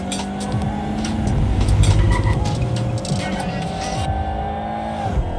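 A car engine roars and shifts through gears with tire noise, steady and close, in the game Watch Dogs: Legion, with a voice talking briefly over it.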